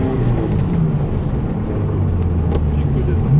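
Ferrari 348 TS engine running steadily from inside the cabin, a loud continuous low rumble with a brief sharp click near the end as the gear is changed, with no assisted steering.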